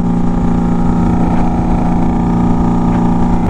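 Motorcycle engine droning loudly and steadily while riding, with a low rumbling hum and wind noise throughout the short stretch.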